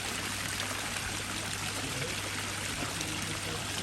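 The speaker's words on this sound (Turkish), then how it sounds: "Dayım burada kendine suni bir şelale de yapmış." Steady rushing water pours and splashes continuously from an artificial waterfall into a pool in a village garden, close and constant.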